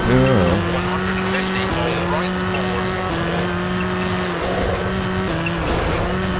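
Rally car engine from the video game WRC II Extreme on the Swedish Rally, droning steadily and loud with stepped pitch shifts at gear changes, plus faint tire noise throughout.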